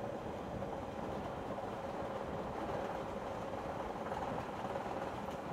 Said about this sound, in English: Sure enough, the train went over the river.